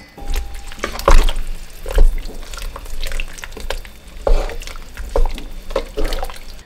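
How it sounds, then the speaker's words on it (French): Liquid cream is poured into a pan of mushrooms, carrots and leeks, giving soft wet splashes and gurgles with a few sharp clinks close by, and no talking. "Maintenant je vais mettre de la crème liquide."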